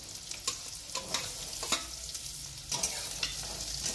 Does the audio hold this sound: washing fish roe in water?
no